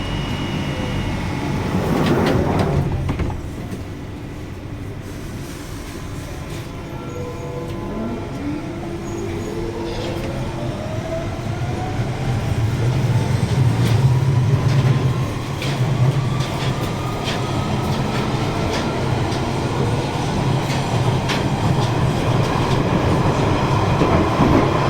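London Underground Central line train running between stations, a loud, steady rumble with rattling wheels and a rising electric motor whine, heard from inside the carriage.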